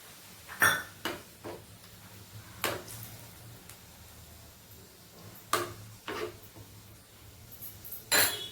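A plate is set over a pot of coconut milk chicken, with a few sharp metallic clinks and knocks spaced apart over a quiet low hum.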